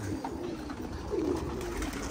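Domestic pigeons coo steadily and fairly close, a low rolling murmur that runs through the whole stretch, with a slightly louder swell midway, over soft background noise and no talking.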